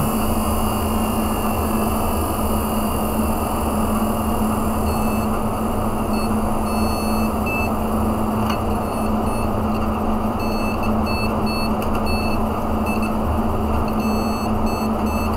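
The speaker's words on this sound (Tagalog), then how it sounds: "Pakaingay ng fan." Loud, steady whir of a noisy cooling fan in an Xbox One console, running alone without pause under a low electrical hum and faint high-pitched tones.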